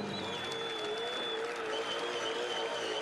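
A New Zealand crowd at Pukekohe Park Raceway cheers and applauds a Supercars driver after a drifting burnout, a steady broad roar from a distance with a faint whining engine tone running through it.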